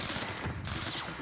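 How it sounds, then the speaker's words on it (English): Gunfire in the game Control, a dense, rapid rattle of overlapping shots filling just over a second, fairly close and steady. "Where's this guy shooting from?"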